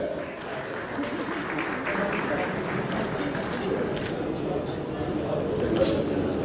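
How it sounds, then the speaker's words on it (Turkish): Audience at an award ceremony applauds as a mayor receives an award, a steady, moderately soft spread of clapping that continues evenly throughout. "Kendileri alkışlarla geldiler."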